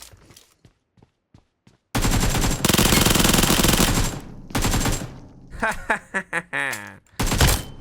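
Loud sustained automatic gunfire in a battle royale video game firefight, long continuous bursts with gaps between them, then shorter choppy volleys, with brief faint sounds before the shooting starts.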